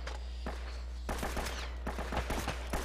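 Gunfire in the video game Uncharted: Drake's Fortune, with a burst of quick sharp shots, a pause, then another cluster of rapid cracks over a low rumbling game background.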